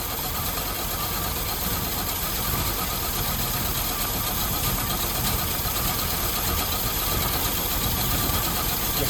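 A 1955 International Harvester R-150 truck engine idles after a cold start at 11 degrees F, a steady, close mechanical drone with an even ticking texture and no variation, heard alone.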